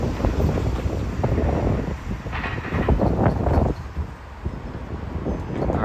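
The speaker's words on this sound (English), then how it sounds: "that was I-44, the northbound intermodal train from Tampa, Florida to Jacksonville Duval Yard in Florida" A northbound intermodal freight train rumbles past nearby in Plant City, Florida, a heavy continuous roar with clanking wheels and gusts of wind buffeting the microphone.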